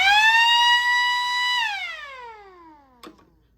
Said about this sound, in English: we can either select siren and strobe